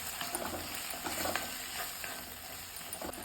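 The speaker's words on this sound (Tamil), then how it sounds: "இப்போ நம்ம ஸ்டவ்வை ஆஃப் பண்ணிவிட்டு இந்த சூட்டிலேயே பரட்டிக்கலாம்" A spoon scrapes and stirs tomato chutney ingredients, including roasted gram, coconut and coriander leaves, in a hot pan after the stove is switched off. A soft sizzle carries under light, irregular scraping, close and continuous.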